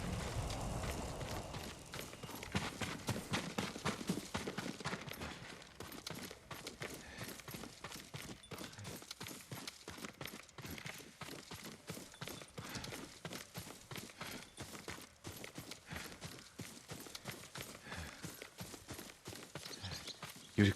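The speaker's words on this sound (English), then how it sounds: "Yuriko's horse. She can't be far." Horse hooves clip-clop through Ghost of Tsushima, Yuriko's horse standing near the trail in feudal Japan, a steady run of close, dry hoof strikes with a few heavier thuds early on and no voices over it.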